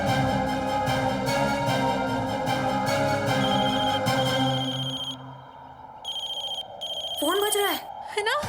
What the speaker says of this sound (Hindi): फोन बज रहा है ना?